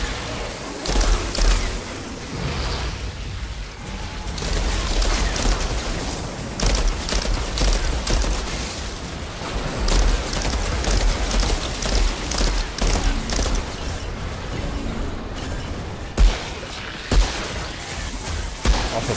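Sustained gunfire in the video game Outriders, dense bursts of shots and impacts running continuously over game action, with a few heavier booms near the end and no one talking.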